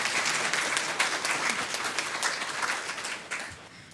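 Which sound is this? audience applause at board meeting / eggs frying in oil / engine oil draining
audience applause at board meeting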